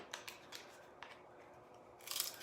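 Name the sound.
scissors cutting Dollar Tree wood shapes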